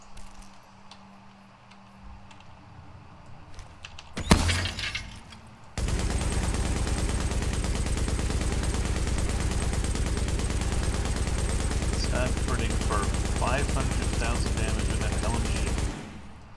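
Sustained LMG fire in The Division, a dense unbroken stream of rapid shots running loud for about ten seconds after a sharp burst, then cutting off abruptly.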